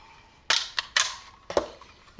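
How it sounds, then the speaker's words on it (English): A paper punch snaps through sheets of paper to cut out circles, giving four or five sharp, close clicks spaced unevenly over about two seconds, with no talking. "But I can use that part of the paper to punch circuits. Let's punch some."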